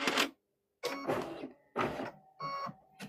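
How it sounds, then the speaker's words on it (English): An all-in-one embroidery machine stitching a Disney-design patch, running in loud close bursts of rapid mechanical whirring separated by short pauses. "It is an embroidery machine, Jeremy."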